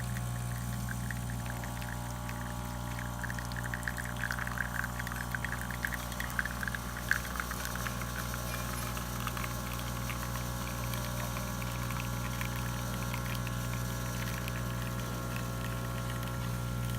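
Isomac Millenium espresso machine pulling a test shot after a full tune-up, a steady low pump hum and drone with faint liquid trickling and hissing, moderately quiet and continuous, no speech.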